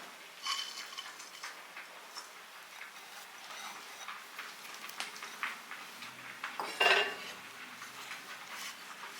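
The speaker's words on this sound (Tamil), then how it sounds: "இதில் அடுப்பில் வந்து ட்ரை ஆகிற வரைக்கும் நல்லா வந்து இப்படி வதக்கி விடணும்" Grated coconut being stirred and sautéed in a pan on the stove until dry, heard as soft, faint scraping and clinking of a utensil against the pan, with a brief louder scrape partway through.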